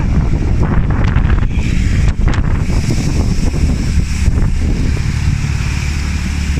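Strong tornado winds in Porac, heard as a loud, continuous roar of wind buffeting the microphone, steady and close with no talk.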